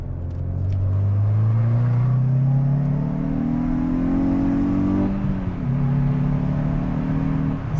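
Steady engine drone of a Hyundai i20 N heard from inside the cabin, rising smoothly in pitch as it accelerates, with a brief dip and recovery near the end.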